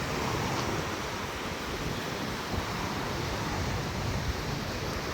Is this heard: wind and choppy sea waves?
yes